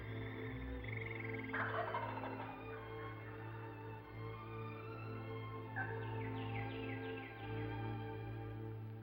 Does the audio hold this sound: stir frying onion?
no